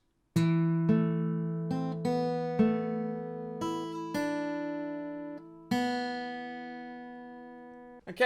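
Guitar playing the opening phrase of a theme from Harry Potter, a slow melody of about ten clear plucked notes that ring and sustain, ending just as another note starts.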